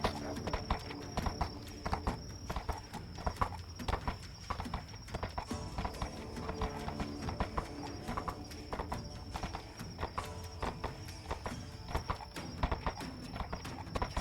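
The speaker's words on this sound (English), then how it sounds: "My horse is approaching." Horse hooves clip-clop steadily along a road in the VRChat game, with a whinny among the hoofbeats, a moderately near, continuous trotting rhythm with little talk.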